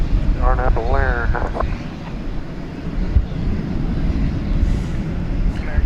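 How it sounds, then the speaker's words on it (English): An Airbus A321neo airliner taking off on a windy night at DFW airport: a steady, broad roar buried under heavy gusting wind, with a brief voice near the start. "It's an Airbus A321neo."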